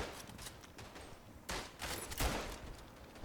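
Rifle shots in the World War I shooter Verdun ring out in about three sharp, loud cracks spaced a second or so apart against a steady background of distant battlefield noise.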